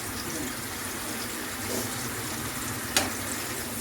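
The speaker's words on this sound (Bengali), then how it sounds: "এখন মশলাটা ভালোভাবে কষিয়ে নিব" Spice paste of garlic and ginger frying in oil for a fish curry, a steady close crackling sizzle running throughout with a brief scrape of stirring near the end.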